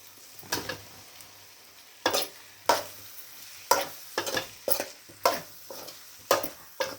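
Large boiled potato pieces are stirred in a spiced frying pan, giving about a dozen close scraping, sizzling strokes at an irregular rhythm over a faint steady hiss, with no talking.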